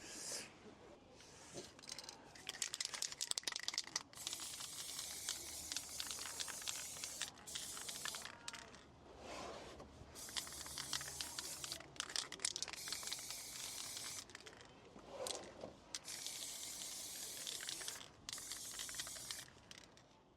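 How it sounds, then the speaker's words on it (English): Primer being sprayed from an aerosol can onto a Rogue One rebel helmet part, heard as repeated close hissing bursts of a few seconds each with short pauses between them. "we'll start spray painting the next one"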